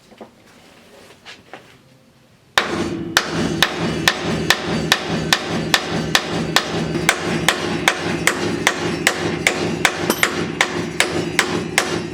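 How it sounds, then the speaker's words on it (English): Steady, rapid hammer blows ring out on metal during a disc brake conversion on a 1963-70 Chevrolet C20 truck, evenly spaced and loud, starting after a short quiet moment and continuing without pause. "So, I need a hammer."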